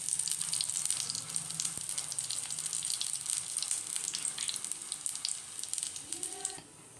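Bread slices roasting in ghee in a pan give a steady, close hiss and sizzle throughout, easing off slightly at the very end, with no talking.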